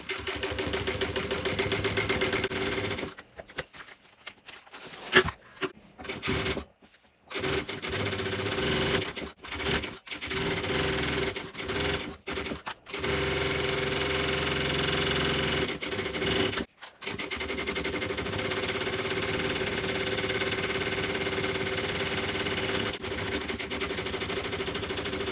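A sewing machine chain stitches tote bag pieces in long continuous runs of rapid, steady whirring, broken by short pauses as each piece is fed through close by.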